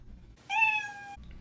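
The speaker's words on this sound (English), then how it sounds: "When I touch the banana, it makes the meow sound" A single cat meow sound effect, triggered by touching a banana wired to a Makey Makey, rings out briefly and clearly against near silence.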